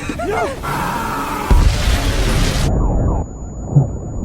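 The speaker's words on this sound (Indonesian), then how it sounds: "tiba-tiba mobil tersebut meledak" A car explodes in the film Retribution: a loud explosive boom with a broad rumbling roar that sustains for a couple of seconds, then drops off into lower, fading rumble and debris noise.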